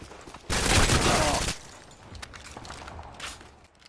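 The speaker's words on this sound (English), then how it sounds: "you're just pressing the fire button and shooting." A one-second burst of rapid hip-fire gunfire from Modern Warfare 2, loud and dense, followed by quieter clicks and faint game sounds.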